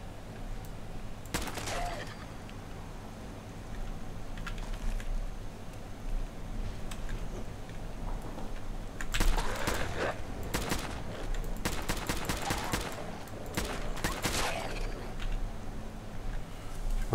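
A gun fires in Fallout 4's Far Harbor add-on in rapid, loud bursts, clustered mostly in the second half over a constant game-ambience bed.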